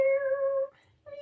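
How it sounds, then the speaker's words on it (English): A cat meows twice in an animated 1980s Christmas special, a clear, close, tonal cry followed after a short pause by a second shorter meow. "Mew makes a cat sound."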